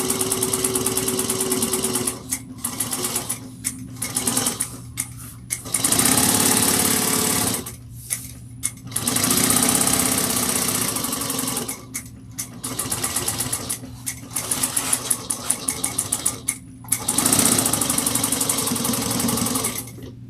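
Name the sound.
sewing machine basting fabric layers together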